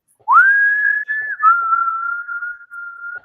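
A person whistles one loud, sustained note that bends up at the start and then holds steady with slight dips, ringing out alone for about three seconds.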